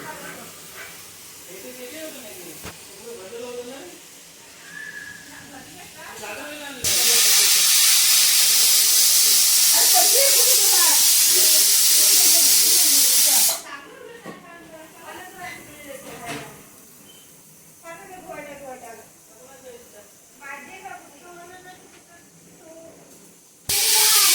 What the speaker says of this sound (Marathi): आपली आता पहिली सिटी होणार आहे कुकरची